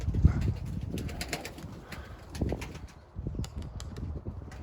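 Takla tumbler pigeons, including young birds with newly completed wings, coo close by in a loft or yard, with soft cooing and bursts of wing flapping throughout and no talking.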